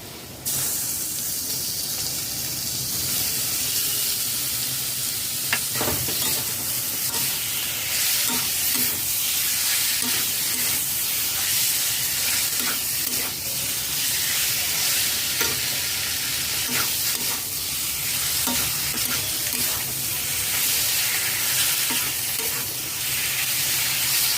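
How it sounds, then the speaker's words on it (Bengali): Bombay duck fish, seasoned with salt, turmeric and chilli powder, fries in a pan while being stirred. A loud continuous sizzle runs under repeated scraping and tapping of a spoon, with no speech. "লোটো মাছ দিয়ে ভালো করে নাড়াচাড়া করে নিয়েছি"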